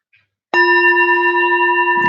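A single bell is tapped once, ringing out with a clear, steady tone and several bright overtones that sustain without fading.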